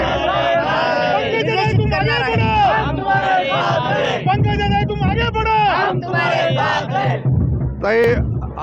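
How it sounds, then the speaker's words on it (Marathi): A large crowd of party workers at a political rally cheers and shouts together, loud and close, with many overlapping voices chanting and whooping throughout. "एवढा जल्लोष पाहून आपल्याला असं वाटतं की कार्यकर्त्यामध्ये खूप मोठा उत्साह भरलेला आहे"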